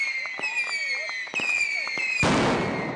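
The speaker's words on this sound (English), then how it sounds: "Chashambe Suri is a night of fireworks." Fireworks on Chaharshanbe Suri, the Iranian new year fire festival night, with sharp crackling pops and whistling rockets, then a loud burst that swells into a roaring crackle, close and intense.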